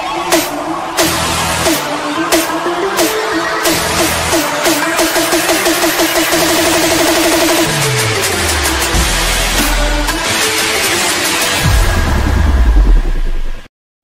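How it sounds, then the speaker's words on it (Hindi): A motorcycle engine cranks and catches, then revs repeatedly in rising bursts before settling, ending with a final loud rev that cuts off abruptly. "so let me start the bike"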